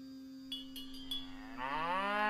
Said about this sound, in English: It actually scared the cow.